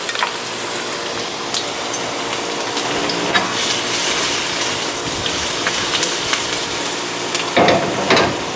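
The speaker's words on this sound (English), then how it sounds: "Once our oil is hot, we're gonna be adding in our garlic." One whole head of minced garlic sautés in hot oil for pork adobo, a steady close crackling sizzle with small pops, then a brief louder stirring scrape near the end.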